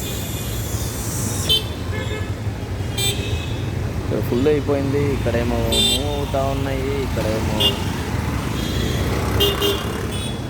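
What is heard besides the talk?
car horns honking in traffic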